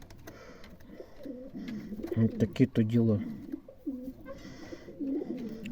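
Dwarf pouter pigeons coo in soft, repeated rolling calls close by, under someone speaking quietly, with one louder burst of cooing in the middle.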